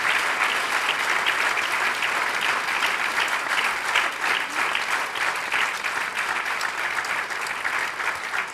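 Sustained audience applause at a film festival music lesson, a dense, even wash of many hands clapping close and loud throughout, with no voices over it.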